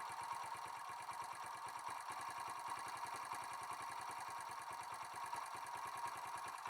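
A rebuilt Kawasaki KLX170 big-bore motorcycle engine idles steadily on its own, a close, even, rapid thumping pulse holding at a constant level throughout with no talk.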